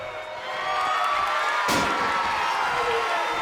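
Loud, steady capacity crowd roaring and cheering throughout in the WWE 2K25 wrestling video game, with a sharp slam-like impact cutting through the noise midway.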